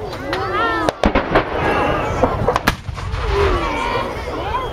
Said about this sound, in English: We hear now some small arms fire.